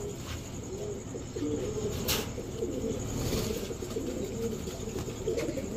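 Pigeons at a seller's stall, Pakistani Teddy, racer and Giribaz breeds, coo softly and repeatedly, with faint background noise and a brief flutter partway through.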